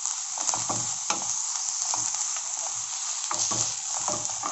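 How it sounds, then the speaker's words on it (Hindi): Onion and capsicum sizzle steadily in a pan over medium flame, with a constant hiss and repeated scraping and clinking of a spoon as the vegetables are stirred. "और अब हम डाल देंगे इसमें शिमला मिर्च और इसको भी हमें 1 मिनट के लिए ही पकाना है"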